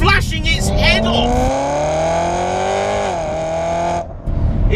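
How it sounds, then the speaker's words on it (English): A 625 bhp supercharged BMW E92 M3 engine revs hard in third gear, a loud sustained rising wail with supercharger whine that climbs, dips briefly, then cuts off abruptly near the end, heard from close up. "it revs so fast"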